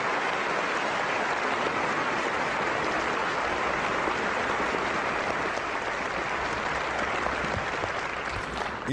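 Sustained audience applause at an IQ2 debate on the Catholic Church, a dense, steady wash of many hands clapping at close range that holds evenly throughout without pause or talk.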